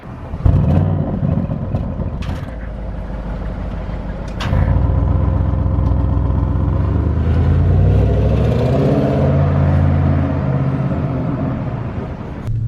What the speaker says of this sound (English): let's jump in the RS7 and let's go for a drive.